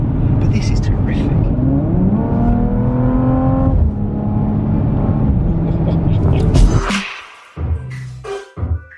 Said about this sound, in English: It's not a huge throaty sound, it's a very deep bassful like sound.